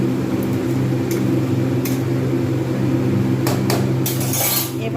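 Egg tadka curry in a pan starting to boil, a steady low bubbling and simmer with a persistent hum and occasional faint clinks, alone without talk.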